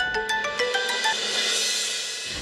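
A phone rings with a repeating electronic tone, pulsing several times in quick succession and then holding steady, loud and close.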